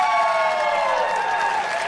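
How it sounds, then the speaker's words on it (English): Crowd applause at a 2021 NNL World Championship event after a disallowed buzzer, a steady broadband wash of clapping and cheering held throughout at even loudness with no pauses. "Big round of applause."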